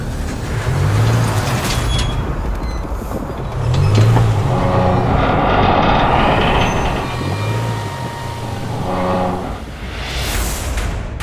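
Loud, steady engine drone and rumble of a lightly modified Land Rover Discovery Sport on rail casters straining to tow a 100-tonne train, with low mechanical hum and occasional tonal whines, close and continuous.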